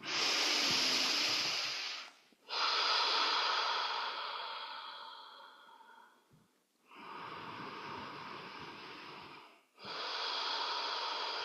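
Slow, close, breathy inhalations during a guided somatic meditation, several long airy breaths separated by brief pauses, soft and hissy with no talking over them.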